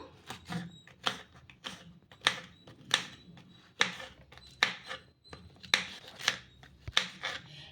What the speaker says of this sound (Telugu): ఇప్పుడు పీసెస్లా కట్ చేసేసుకుందాము